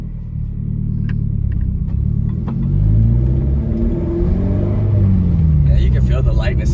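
Inside a Toyota MR2 fitted with a K24 engine and five-speed gearbox on a test drive, the engine rumbles and revs up through rising, falling pitch sweeps, close and loud, with voices talking briefly in the cabin.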